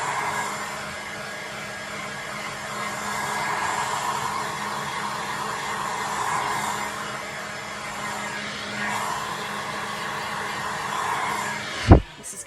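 Heat gun blowing steadily on silicone over a doll body, a continuous airy roar held at close range throughout, ending in a sharp knock.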